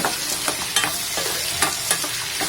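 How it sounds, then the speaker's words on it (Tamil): Drumstick pieces with salt sautéing in a pan for a Tirunelveli-style fenugreek curry, a steady close sizzle broken by repeated scraping stirs of a spatula, with no voices. "முருங்கைக்காயில் நல்லா வதக்கிக்கலாம். ஃப்ரை பண்ணிக்கிட்டே இருங்க."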